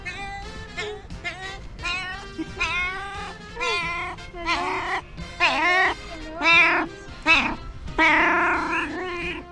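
A cat meows over and over, with drawn-out, rising and falling cries at close range, some strained and caterwauling, in a steady sequence with short gaps.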